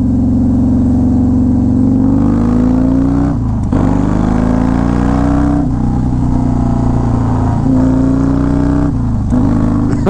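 A Harley-Davidson Road Glide with a 107 engine and Star Racing 3030 cam, running loud and close with a steady low rumble that rises and dips through gear changes while riding.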